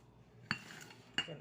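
A spoon knocks twice against a bowl while chopped onion is mixed into a samosa filling, two quiet clinks with a soft scraping stir in between, close by and without talk.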